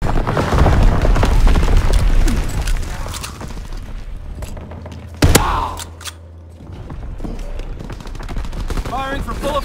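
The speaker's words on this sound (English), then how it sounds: "Enemy mortar fire incoming." Mortar fire in the WW2 shooter Resistance WW2, a barrage of booms and sharp gunfire cracks with one loud blast midway, then a quieter lull before firing resumes, with voices mixed in.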